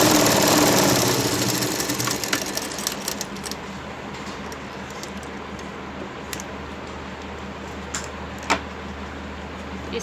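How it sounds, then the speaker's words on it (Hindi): A sewing machine double-stitches a seam on Banarasi lehenga fabric, its steady mechanical whir running close and continuous for the whole stretch, loudest at the start and then settling to an even hum. "हम इस पर डबल सिलाई लगाएंगे इस तरीके से इसको घुमाकर।"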